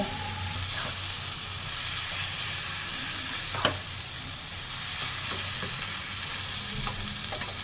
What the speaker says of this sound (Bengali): যে বেগুন আর পেঁয়াজকলি আর আলুগুলো আমি ভেজে রেখে দিয়েছিলাম সেইগুলো এর মধ্যে দিয়ে দেব দিয়ে ভালো করে এটা মিক্স করে নেব